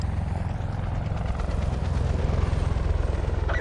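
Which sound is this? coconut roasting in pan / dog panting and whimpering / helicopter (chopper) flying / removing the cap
helicopter (chopper) flying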